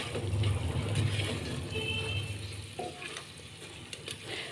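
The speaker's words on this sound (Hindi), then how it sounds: "हम गाजर डाल दे रहे हैं और बीन्स भी डाल दे रहे हैं।" Carrots and beans sizzle and fry in a pressure cooker pot for veg biryani, a steady close crackle with stirring scrapes, easing slightly toward the end.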